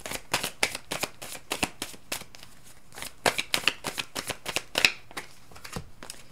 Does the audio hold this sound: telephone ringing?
no